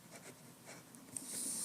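Pen strokes scratching across paper while drawing lines, a series of quick, soft scrapes that run faster toward the end, close and quiet with no talking.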